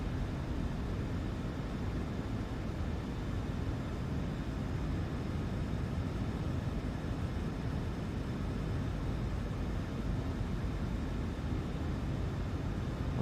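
Steady, unbroken engine and wind drone of an aircraft flying in Microsoft Flight Simulator 2024 on approach to Indianapolis, loud and even throughout with no talk.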